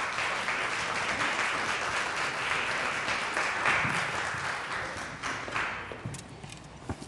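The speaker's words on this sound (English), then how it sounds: "Please give him a round of applause" An audience at an MLK commemoration event applauds a chairman called to the stage, steady dense clapping throughout that gradually thins and fades toward the end.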